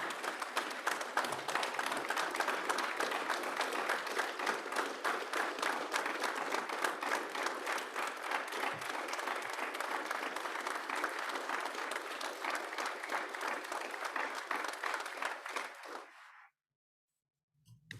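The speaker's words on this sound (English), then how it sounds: "So please join me in a round of applause for Chief Elliott." Sustained audience applause at a fire and rescue recruit school graduation, dense steady clapping from a large crowd that lasts about sixteen seconds before stopping abruptly.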